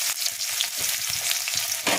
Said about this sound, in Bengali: তেলটা গরম হয়ে গেলে গোটা জিরে ফোড়ন দিলাম।